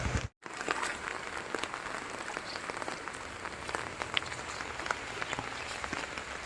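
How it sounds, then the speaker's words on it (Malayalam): Monsoon rain on the first day of Karkidakam patters steadily with scattered sharp drops close by, after a brief cut of silence near the start. "ഇന്ന് രാവിലെ തുടങ്ങിയ മഴ കേട്ടാ"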